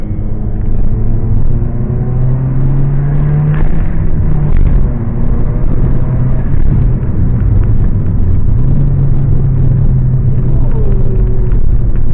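A turbocharged Scion tC with a street tune accelerates hard in third gear, its engine droning loud and steady from inside the cabin, with the pitch rising and dropping across shifts over about twelve seconds.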